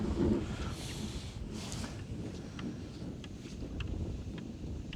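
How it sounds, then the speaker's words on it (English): Wind gusts across a frozen lake during ice fishing, a steady rumbling buffet on the microphone with brief rustles on top. "The wind's picking up a little bit."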